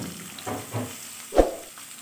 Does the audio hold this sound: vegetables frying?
yes